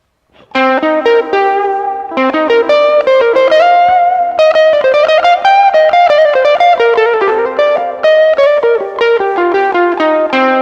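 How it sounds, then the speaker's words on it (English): Ukulele melody played through heavy overdrive distortion, sustained, buzzy notes moving steadily without a break, loud and up close. "this is my overdrive sound or my distortion sound when I'm mimicking the guitar"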